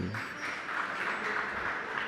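An audience claps during a Hindi religious sermon, a dense, even patter of many hands that carries on steadily for about two seconds with no voice over it.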